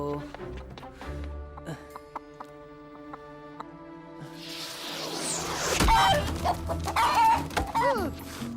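A rooster clucks and squawks as it dodges someone chasing it, the calls rising to a loud flurry near the end over music, with someone speaking at points.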